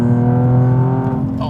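The engine and exhaust of a Nissan 370Z Nismo drone loudly while driving, a steady low rumble with strong harmonics heard close up from inside the car.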